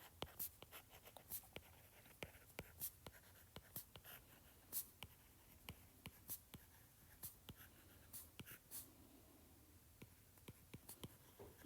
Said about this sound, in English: I'm going to go ahead and write out the general pattern again